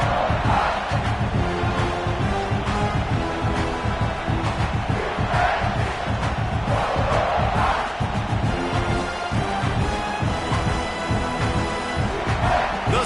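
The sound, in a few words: stadium crowd cheering at a football game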